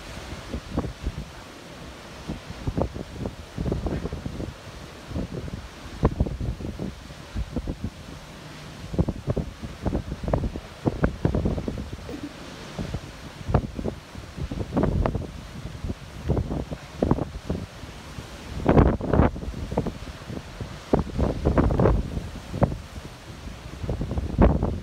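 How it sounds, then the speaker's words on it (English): On the Golden Princess cruise ship out at sea, strong wind buffets the microphone while the hull pushes through swells and throws spray. There are repeated rushing gusts and surges over a steady roar, close and loud, with no talking. "So the ship keeps hitting these waves"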